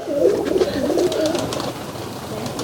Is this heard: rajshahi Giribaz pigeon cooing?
yes